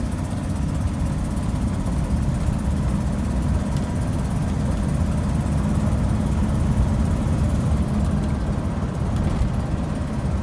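A Ford car with select shift transmission accelerates in second gear, its engine a steady, continuous low drone and road rumble heard from inside the cabin, loud and unbroken throughout.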